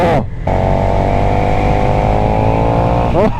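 A 2022 KTM 1290 Super Duke R motorcycle accelerates hard enough to lift its front wheel, a loud, continuous engine roar heard close up between brief gear-change dips at the start and end.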